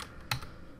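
Computer keyboard keys clack close by as code is typed, a couple of quiet taps followed by one sharper, louder keystroke, with faint room hiss between.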